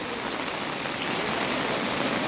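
Steady rain pours down continuously around a temple complex, a loud, close, unbroken hiss with no voices heard.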